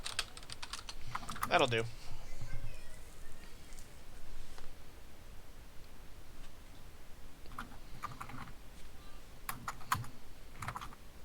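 Clicky computer keyboard typing in quick irregular bursts during an online tabletop role-playing session, fairly close, with a brief spoken remark near the start.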